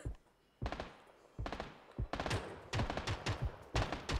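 Gunfire in the video game PUBG, sharp shots coming first singly, then in rapid bursts of automatic fire, loud and close.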